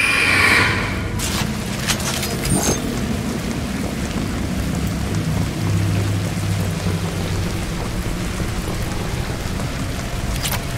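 Steady rain pours in Mass Effect 2, a dense, continuous hiss with low rumbling underneath and a few brighter splashes near the start.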